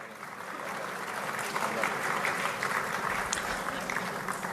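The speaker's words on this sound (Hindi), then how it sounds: "जोरदार तालियों से इनका स्वागत करें।" Sustained applause from an audience at an award ceremony honouring local heroes in Gwalior, a steady dense wash of clapping at moderate distance with no pauses.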